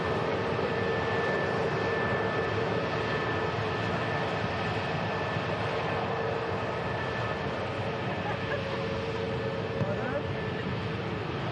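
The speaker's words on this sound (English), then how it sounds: "there's Pegasus heading off to Istanbul." A Pegasus airliner departing Manchester Airport for Istanbul gives a continuous distant jet roar, steady and broad, with faint talk underneath.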